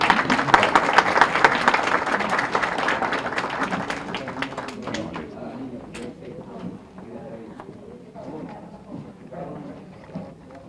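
Audience applause at a Dominican diaspora 60th anniversary event in New York, strong clapping for about five seconds that fades, then quieter room sounds and a voice speaking.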